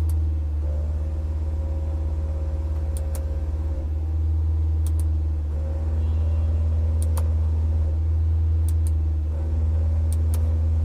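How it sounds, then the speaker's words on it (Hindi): Honda Brio car running at 3000 RPM with the AC on and a faulty compressor: a steady low engine drone with a whine over it and regular faint ticking clicks, continuous and close. "जब एसी चालू करता हूं तो साउंड सुनिए।"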